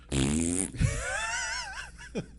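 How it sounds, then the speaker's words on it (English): An Amazon Alexa smart speaker plays a fart sound effect: a long, buzzy, sputtering blast with a wavering pitch that fills the whole moment, loud and close. "Alexa, ask for a fart."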